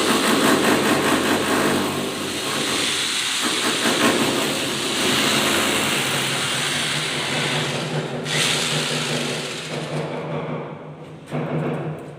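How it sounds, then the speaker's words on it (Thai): A power drill bores bolt holes into a PVC bathroom door frame during installation, giving a loud, continuous grinding whir that runs nearly unbroken for about twelve seconds before briefly dropping near the end. "เจาะเพื่อใส่ร้อยน็อตเข้าไป"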